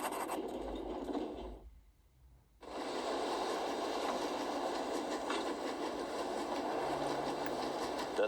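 Rushing, steady rumble of a train at full speed in the video game The Raven Remastered, continuous and close with a brief dip partway through, then the rolling clatter resumes unbroken.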